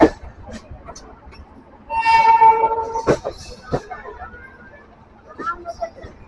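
Barauni Rapti Sagar Express passenger train in motion, heard from inside a general class coach: a steady rolling rumble, a loud tonal horn-like blast for about a second, then clanks and background voices with talk.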